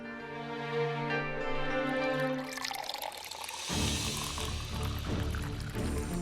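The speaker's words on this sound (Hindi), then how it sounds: "मैं आपके लिए पानी लेकर आती हूँ।" Indoors, drinking water is poured for a guest. After sustained tonal background sound, a steady, close pour of liquid begins partway through and runs to the end.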